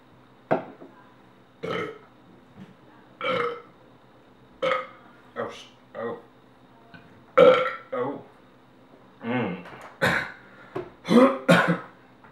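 Repeated loud, close burps after drinking Coca-Cola, about ten separate belches spaced a second or so apart, some drawn out and throaty, with no talking between them.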